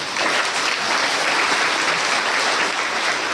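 A crowd claps together in a continuous, dense burst of applause, loud and even from start to finish with no voices breaking through.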